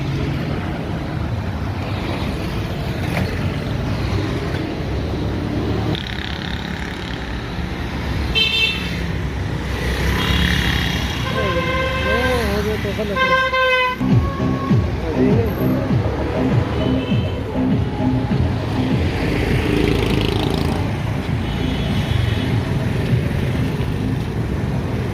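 General road traffic crossing Sukkur bridge during a river flood, a continuous hum of passing vehicles with several car horns tooting near the middle, and a voice talking over the traffic.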